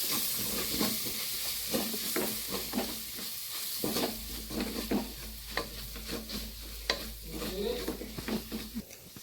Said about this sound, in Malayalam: 2 ചെറിയ സ്പൂണിന് ചിക്കൻ മസാല ഒക്കെ കൊണ്ട് നല്ലപോലെ വണക്കിയെടുക്കാം